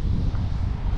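Wind blowing outdoors on a mild, cool day during a walk with Labradors, a steady low rumble of gusts buffeting the microphone throughout, with no talk.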